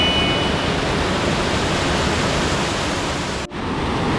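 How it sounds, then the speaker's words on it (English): Ganoga Falls, a small waterfall in the wooded Ricketts Glen, gives a steady, close rushing roar with a brief dip near the end. "So this small waterfall in front of me is Ganoga Falls."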